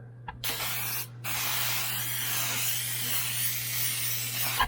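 Plasti Dip aerosol sprayed onto the emblem of a 2018 Chevrolet Colorado truck: a steady, close hiss that runs almost without a break, with a short pause near the start, and no talking.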